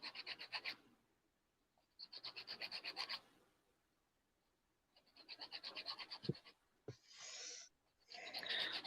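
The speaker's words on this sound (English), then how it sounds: "Trying to sand a round piece" Flat sandpaper rubbed against a round metal part for a custom lightsaber, rhythmic back-and-forth scratching strokes in several separate bursts with quiet pauses between, close and fairly faint.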